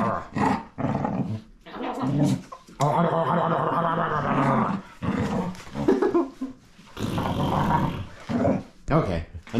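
A dog growling playfully, rough throaty growls coming in bursts up close, with a person talking in between.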